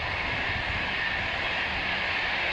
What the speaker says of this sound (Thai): เสียงรถไฟค่ะคุณ